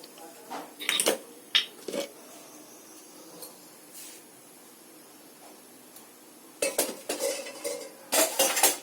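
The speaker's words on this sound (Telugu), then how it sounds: "ఆయిల్ వేడయ్యాక నేను శనగపిండిని ఫ్రై చేస్తాను" Gram flour frying and being stirred in oil in a pan while preparing tomato mudhagaya, heard as scattered metal spoon scrapes and clinks against the pan in bursts, with quiet gaps in between.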